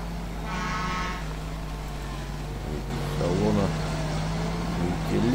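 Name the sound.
GAZ-34 truck mod driving, Spin Tires video game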